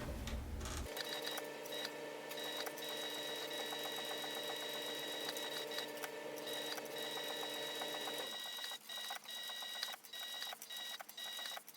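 A sewing machine stitches fabric for a pair of flying boots, running in a steady rapid whirring drone for about eight seconds before stopping, followed by a few faint mechanical clicks and handling noises.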